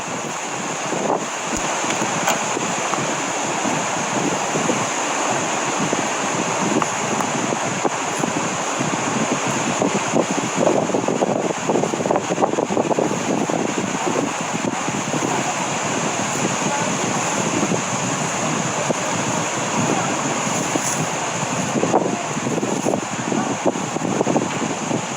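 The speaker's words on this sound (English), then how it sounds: "Funny, it did not get this windy until we got here." Strong wind buffeting outdoors at a cemetery, a constant loud roar with gusty microphone rumble throughout and no voices.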